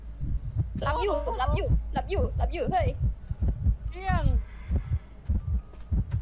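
Low, steady heartbeat thumps from the Identity V game, signalling a hunter nearby, pulse repeatedly beneath excited Thai speech and game sounds for the whole stretch.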